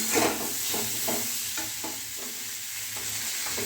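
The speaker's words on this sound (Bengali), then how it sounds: "পটল ভাজা হয়ে গেছে" Pointed gourd frying in a pan, a soft continuous sizzle overlaid with repeated scraping stirs at a fairly regular pace, close and moderately quiet.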